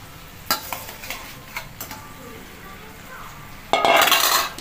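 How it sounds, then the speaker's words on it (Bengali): A spoon scrapes and clinks against a pan as spiced masala is stirred for a Bengali prawn and mete alu dish. Near the end, potato pieces drop in with a sudden loud, bright sizzle. "এবার আমি আলুটা দিয়ে দেবো।"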